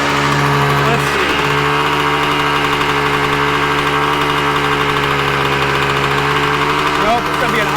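A Yamaha Tri-Z 250 two-stroke engine idles high, a loud, steady close-up drone with a constant pitch and a fast ringing putter that holds unbroken.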